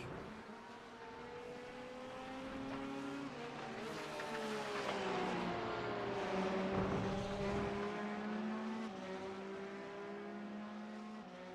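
The number 48 Porsche GT3 race car lapping at Brands Hatch, its engine note rising and falling through gear changes as it passes at a distance, steady and fairly faint with several other cars underneath.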